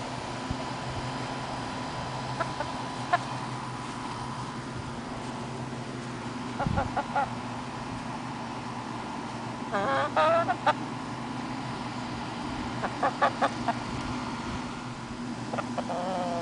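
A hen in Polk City, Florida, gives scattered short clucks, in small bursts around the middle and later, over a steady outdoor hum and hiss, fairly near and not loud.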